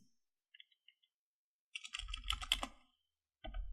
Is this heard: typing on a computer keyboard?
yes